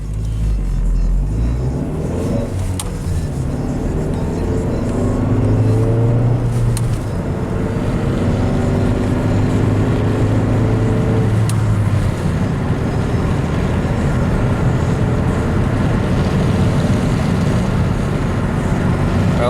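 A Ford Mystique on a test drive after a DIY string toe-in alignment, its engine and road rumble steady and close from inside the cabin, with shifting engine tones throughout and no talking.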